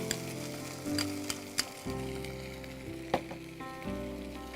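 Green chili paste sautéing in a hot pan, a close, steady sizzle and crackle with a few spoon scrapes and clinks, no voices over it.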